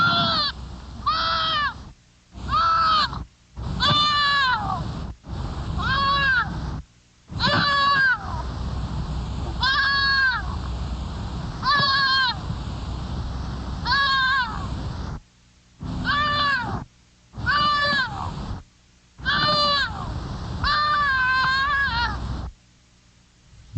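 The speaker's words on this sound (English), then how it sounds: "I now want you to listen to a young fawn crying when traumatized" A young fawn's distressed crying call is played back repeatedly as short, high, wavering bleats separated by brief silences, loud and close with no talking.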